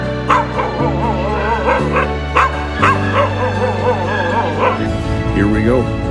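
A crowd of rescued dogs aboard a plane barks, yips and whimpers together in a dense, overlapping chorus, loud and close throughout, with a low steady drone beneath.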